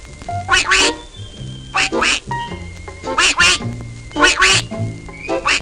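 A cartoon duck quacks repeatedly in a Yogi Bear and Three Stooges animation, loud raspy quacks in paired bursts over a steady musical background.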